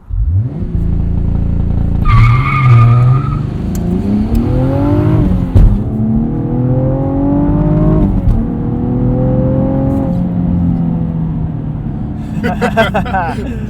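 A 2016 Cadillac ATS-V coupe with a manual gearbox launches at full throttle, the engine roaring up through rising revs with a shift and more climbing pulls, loud and close, with people talking over it.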